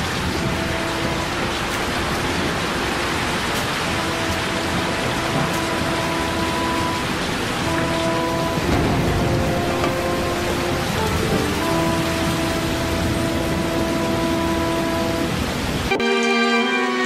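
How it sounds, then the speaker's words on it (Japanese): A rare May thunderstorm pours steady heavy rain over the Okehazama battlefield in a period drama. The dense hiss of rain runs continuously under sustained musical tones and cuts off abruptly near the end. "5月には珍しい雷雨が桶狭間に迫りゆく織田軍の姿を覆い隠した。"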